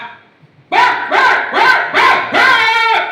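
A human voice imitates a dog barking, five quick rhythmic woofs in a row, close and loud.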